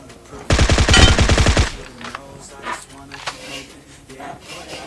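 A fast burst of automatic rifle fire in Battlegrounds Mobile India rattles loud and close for about a second, with softer game sounds and speech following.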